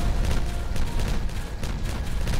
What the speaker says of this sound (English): So let's get rid of this guy too. No, one speed so we can see the pretty explosion.